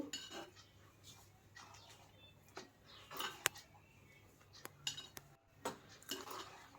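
A few light metallic clinks and taps sound as a lid is set onto a cooking pot of simmering gongura dal curry, soft and close against a quiet kitchen background.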